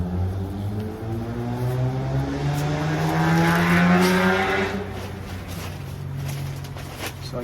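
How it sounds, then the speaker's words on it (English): Suburban neighborhood traffic rumbles steadily throughout, a vehicle or low-flying engine swelling past with rising and falling tonal drone, loudest mid-clip then fading into a continuing background hum. "there's going to be a lot of neighborhood noise, traffic noise"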